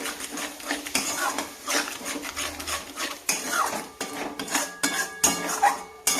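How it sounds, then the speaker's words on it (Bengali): A utensil scrapes and clinks against a pot as chicken masala with yogurt is stirred and sautéed. The stirring comes in irregular close strokes with metallic knocks and no talking. "ব্যাস, এবার ভালো করে কষবো।"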